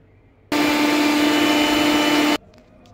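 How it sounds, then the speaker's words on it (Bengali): A mixer grinder blends soaked matar dal with ginger and chilli in one loud, steady whirring burst of about two seconds, starting and stopping abruptly, with quiet room sound before and after. "তো চলো ফার্স্টে মিক্সিতে এটাকে ব্লেন্ড করে নিই"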